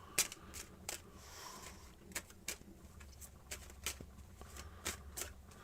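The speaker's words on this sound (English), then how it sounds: "Cleansing the cards off here too." A tarot deck shuffled by hand over and over, with repeated crisp papery riffles and snaps in an uneven rhythm. The sound is close, quiet and free of voices.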